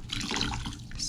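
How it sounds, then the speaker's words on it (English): A wet-felted wool pumpkin is dunked quickly into water, giving a brief, close splash and slosh of liquid over about a second. "We're going to submerge it quickly into the water"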